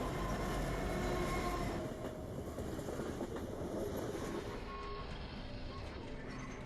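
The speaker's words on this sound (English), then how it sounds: "Train." A train rolls past at a steady distance, a dense continuous rumble of wheels and carriages filling the whole clip, easing slightly toward the end, in a horror-themed animated scene.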